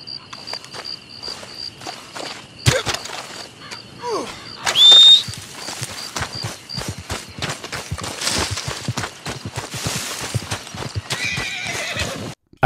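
A horse whinnies and snorts while hooves clip-clop steadily over ground in the Western video game Red Dead Redemption, with crickets and insects chirring in the background.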